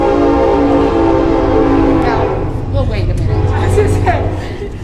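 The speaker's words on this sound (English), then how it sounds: "just by the trains that come rolling by all the time" A train rolls past all the time near a fiber arts studio, giving a loud, steady rumble and a long horn blast. People talk over the noise throughout.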